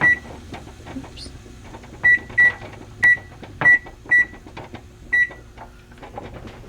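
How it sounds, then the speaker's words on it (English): A kitchen timer beeps several times in short, separated bursts during home pressure canning of white turkey chili, with quiet kitchen background noise between the beeps. "Our timer just went off"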